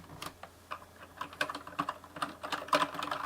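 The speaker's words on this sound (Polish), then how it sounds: "na tej klawiaturze bardzo lekko się pisze, wystarczy te klawisze po prostu muskać" Light, quick keystrokes on a Bloody B740A mechanical keyboard, irregular clicks with short bursts, close and fairly soft, no voices.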